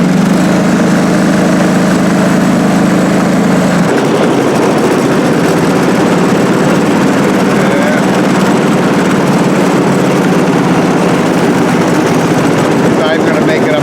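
A John Deere 445 lawn tractor engine runs loud and close while mowing grass under load, a constant droning rumble with a steady low hum that shifts pitch slightly after a few seconds and then continues unbroken.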